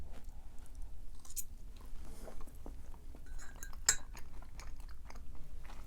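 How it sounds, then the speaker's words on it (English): Someone eating spinach lasagna up close, with soft bites and chewing punctuated by clinks of cutlery against a dish, quiet and intermittent with no talking. "I'm eating my lasagna right now"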